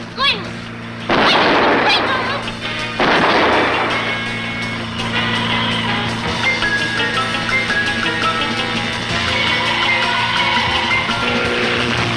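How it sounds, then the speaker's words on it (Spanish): Gunshots are fired at the tires of a car: two loud, sharp blasts near the start ring out over a steady engine-like drone, followed by continuous rumbling and vehicle noise. "¡Vamos, dispare ya!"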